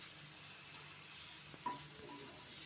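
Meal maker soya chunks frying in a pan for a masala curry give a steady, soft sizzle throughout, with a brief clink of a utensil against the pan near the end.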